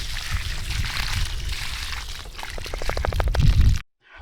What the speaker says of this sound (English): I'm gonna give it lots of water right now